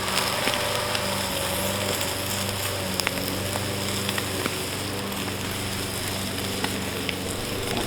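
Skirt steak sears directly on hot coals with a continuous crackling sizzle and occasional small pops. The sound stays steady and close for the whole stretch, and no one speaks.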